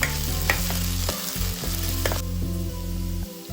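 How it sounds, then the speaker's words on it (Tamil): Onions sautéing in a pan give a continuous frying sizzle, broken up by repeated stirring scrapes and clatters at a close, steady level. No voices are heard. "வெங்காயம் பொண்ணு வச்சுட்டு நல்லா வதங்க வேணும்"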